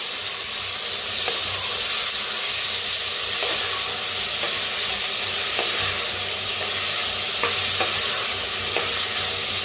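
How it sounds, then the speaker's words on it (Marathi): Coriander, tomato and fresh peas being stir-fried in a pan, a strong, steady hissing sizzle with faint periodic scrapes of a spoon turning the mixture throughout. "आता इथं घेतलेलं आहे कोथिंबीर आणि टमाटो आणि मटर. सगळं भाजून घेऊया."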